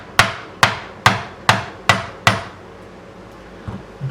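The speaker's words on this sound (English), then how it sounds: "We're just going to take the fretting hammer and just knock this in." A fretting hammer knocks a fret into the fingerboard of an old Stagg bass guitar, six evenly spaced sharp taps close up, then a couple of softer knocks after a brief pause.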